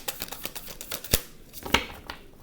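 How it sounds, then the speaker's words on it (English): Tarot cards being shuffled by hand, a rapid run of crisp riffling flicks with a few louder snaps, close and alone with no talking. "I'm going to shuffle."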